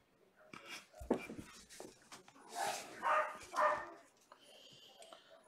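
Dogs bark in a few scattered bursts across a room with faint background noise, the loudest yelps landing in the middle and near the end at moderate volume.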